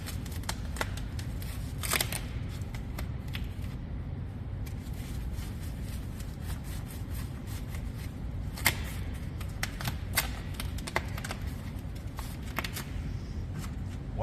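Zip ties fastened around foam pipe insulation: a scattered series of small sharp ratcheting clicks and ticks over a dull background rumble, close by, with no talk.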